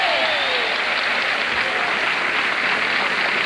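A game show studio audience bursts into loud, continuous applause with some cheering, a full and even roar that holds steady throughout.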